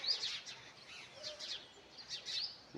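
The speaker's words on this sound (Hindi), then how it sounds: "बहुत ही अलग अलग प्रकार की पक्षियाँ जो हैं चहक रही हैं" Various birds chirping in the morning: a quiet mix of high, repeated tweets and short trills from several birds at a moderate distance, steady throughout with no talk.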